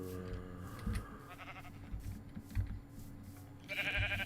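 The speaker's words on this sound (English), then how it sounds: "A lot of sheep around," Several sheep bleat at intervals in Minecraft over a busy backdrop of ambient sound, the calls medium-loud and scattered across a few seconds.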